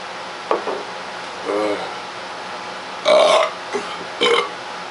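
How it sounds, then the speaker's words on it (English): Several loud, close burps come after drinking a bottle of Lester's Fixings ranch dressing soda, two short ones followed by a long rumbling belch and another strong one. "worth burping it up."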